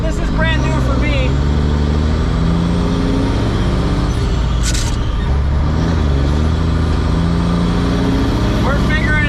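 A farm truck hauling earlage rumbles loud and continuous, its engine droning with shifting pitch and a brief hiss midway, while someone talks over it.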